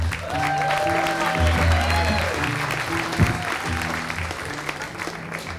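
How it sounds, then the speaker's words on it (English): An audience at a comedy show applauds as comedian Chris Patrick comes on, with sustained, close clapping over a faint musical tone, holding for several seconds and thinning slightly toward the end. "Big round of applause for Chris Patrick."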